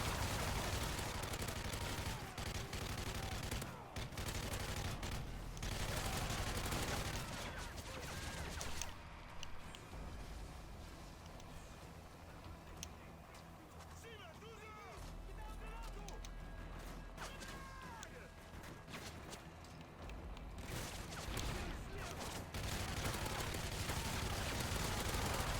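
Sustained automatic fire from an MK46 machine gun in Modern Warfare 3 Survival mode, loud bursts rattling almost continuously with crashes and game effects, a brief lull midway, and a voice talking over the gunfire.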